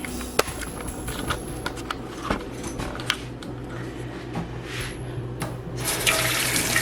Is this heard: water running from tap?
yes